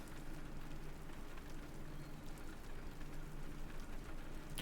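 Steady rain pours down in the visual novel Mahoyo, a dense, even hiss of drops that continues without a break and with no voices.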